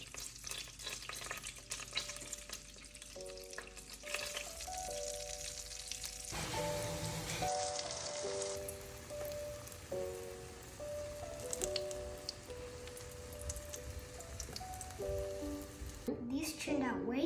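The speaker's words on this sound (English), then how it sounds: "Oil's ready, let's fry them." Zucchini frying in butter and avocado oil, a steady crackling sizzle that runs throughout under persistent music, close and moderately loud, with the frying surging briefly partway through.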